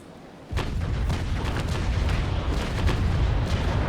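Ship cannons firing a broadside during a naval battle in the age-of-sail game Naval Action: a sudden heavy boom at the start, then a sustained rumbling roar of overlapping cannon blasts and crackling reports.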